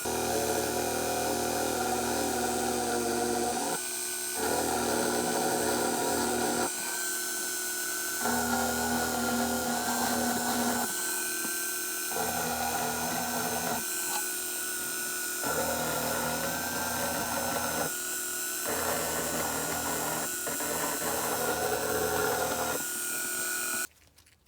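A rotary tool with a small burr grinds along a crack in a plastic wheel cover from a 2003 Toyota Echo, a loud high whining buzz in steady bursts with brief pauses, ending abruptly.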